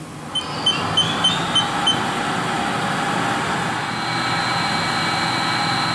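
Spindle of a new 2007 Haas VF-5/50XT CNC vertical machining center running at 2,500 RPM, a steady close mechanical whine and hum held throughout, with a few brief high clicks early on and a tone rising near the end.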